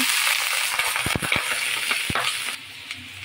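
Onions lightly frying in a pan for a shrimp dish, a steady close sizzle with a few sharp clicks and scrapes of a utensil stirring against the pan.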